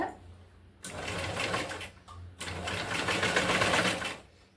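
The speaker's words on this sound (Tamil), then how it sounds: "இதே மாதிரி கொஞ்சம் கொஞ்சமாக ஸ்டிச் பண்ணிக்கிட்டே வாங்க" A sewing machine stitches a blouse neck piece in two close, loud bursts of rapid whirring separated by a short pause, with a faint low hum between runs.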